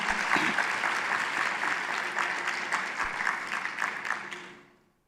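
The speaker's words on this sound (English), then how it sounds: "Another big round of applause for Mr." At an education department lekgotla, a conference crowd gives sustained, full applause that stays dense for several seconds and then fades away quickly at the end.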